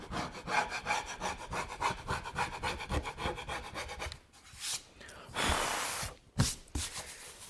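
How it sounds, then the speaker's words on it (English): A piece of steel is rubbed back and forth over the raised edge of a van upholstery panel. It makes a steady rhythmic scraping for several seconds, then longer single strokes follow. The sound is close and moderately loud. "going to take a piece of steel and I'm just going to kind of run this over it"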